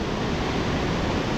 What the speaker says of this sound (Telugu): అతి పెద్ద జలపాతం ఉందిరా ఇది.